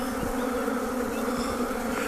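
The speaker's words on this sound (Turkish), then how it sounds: "buranın arısı da maşallah hiç aman vermiyor yani" Honeybees swarm around an open hive during a beekeeping check on a broodless colony, filling the air with a dense, steady, close buzzing that never lets up, with no voices.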